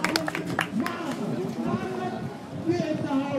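An audience applauding a teacher at an English language club meeting, a short burst of clapping mixed with crowd chatter and a voice speaking over it.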